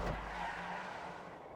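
Race car tires squealing in the FiveM racing game, a sustained skidding screech at moderate volume lasting over a second and slowly fading.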